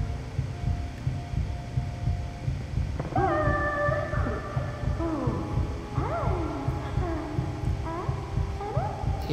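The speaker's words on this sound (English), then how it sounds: "The freaking heartbeat in my ear is getting louder and louder." A heartbeat effect in the video game Last Day of June thumps steadily and low throughout, under a background of music with rising and sliding tones.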